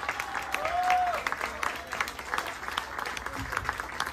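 An audience at a tribute concert for a charango player in Stockholm applauds, a continuous spread of many hands clapping at middle distance, with a brief whistle-like tone and faint voices mixed in.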